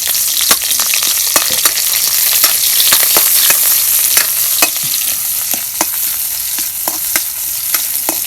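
Corn fries in hot oil with a loud, steady sizzle just nearby, dotted throughout with sharp little pops and crackles.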